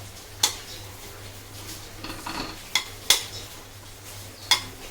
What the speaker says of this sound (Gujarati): ધીમી આંચ પર આને શેકવાનું છે